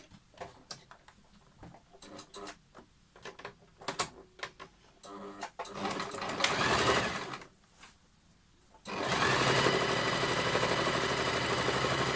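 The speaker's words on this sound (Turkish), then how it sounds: "Yine açık kalan kısmı şöyle katlayıp makinede dikişini yapacağım düz dikişle elde dikmeye uğraşmayalım." A sewing machine runs a straight seam on a fabric pouch, first in short stop-start bursts of whirring stitches, then in one longer, steady, close run.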